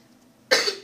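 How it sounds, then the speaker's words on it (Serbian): One sharp cough breaks in halfway through, loud and close, then trails off, after quiet background during Grand Theft Auto III gameplay. "Izvinite, ću malo kašljim"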